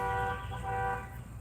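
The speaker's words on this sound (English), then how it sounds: "all the honking out there" Car horns honk outside a garage during a live brake service, a loud sustained toot with layered tones held for over a second before easing off, no talking.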